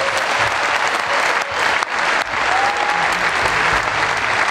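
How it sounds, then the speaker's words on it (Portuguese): Sustained audience applause at a comedy roast show on Portugal's Liberty Day, loud and dense throughout with brief dips, punctuated by scattered whistles and cheers. "Quero uma salva de palmas para a liberdade."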